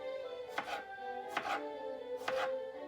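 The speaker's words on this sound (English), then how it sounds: "when I cut veggies, I like just a plain old serrated, cheapo steak knifey type of thing." A cheap serrated steak knife chops vegetables for pineapple pico de gallo, three crisp separate chops landing on a board with pauses between, close and fairly quiet.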